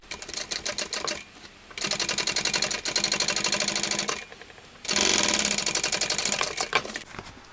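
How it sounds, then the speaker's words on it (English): Sewing machine top stitching a mini tote bag at 1/8 inch: rapid, rhythmic mechanical chattering in three close bursts separated by short pauses, loud and alone. "So now I get to top stitch this side."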